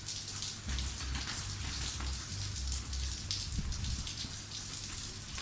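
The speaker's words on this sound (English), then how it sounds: "I think we're hearing rain now." Steady rain falls outdoors, a dense even hiss of drops hitting surfaces, with a low rumble underneath, constant and moderately loud throughout.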